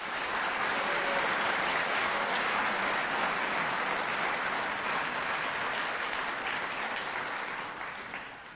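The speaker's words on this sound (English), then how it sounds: "please a round of applause for them" An audience at a live political speaking event in Utah breaks into sustained, loud applause, dense clapping that fills the room throughout and tapers slightly at the end.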